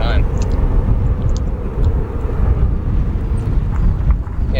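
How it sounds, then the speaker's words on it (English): A Delta Airbus A220 at O'Hare airport gives a loud, steady roar of jet engine noise with wind rumble, continuous throughout and fairly near, while a voice talks in the background. "Get a beautiful look at that Airbus A220 operated by Delta that just landed a few moments ago in front of you."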